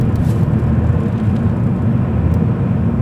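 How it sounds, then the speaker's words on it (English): A Volvo S80 with an automatic gearbox revs hard at about 40 mph on the road, giving a loud, steady low engine drone heard from inside the car. "I can just keep revving the car like I'm stuck in neutral."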